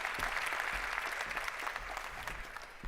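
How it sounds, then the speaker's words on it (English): Conference audience applauds as a climate ambassador walks onto the stage, a steady wash of clapping at moderate distance, fairly quiet and uniform for about three seconds. "Let's give her a round of applause while she joins us on stage."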